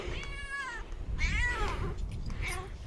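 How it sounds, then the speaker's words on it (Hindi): A cat meows three times in drawn-out, whiny calls with short pauses between, fairly close and clear. "म्याऊं म्याऊं म्याऊं कर रही है।"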